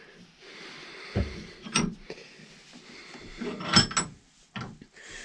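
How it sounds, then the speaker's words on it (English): A gun part is clamped into a vise fitted with soft jaws, giving a few quiet scattered knocks and scraping clunks of metal and wood in an otherwise quiet room. "I'm going to put this in the vise"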